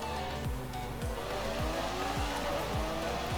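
A white Lamborghini Aventador in Forza Horizon 5 revs hard through rapid gear changes, its engine note sweeping up and dropping sharply about every half second, loud and close, alone.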